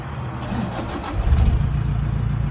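Toyota Vigo 2.5 pickup engine cranks and starts, then settles into a steady, loud low idle rumble close by.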